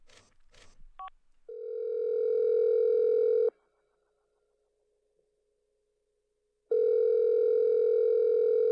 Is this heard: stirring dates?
no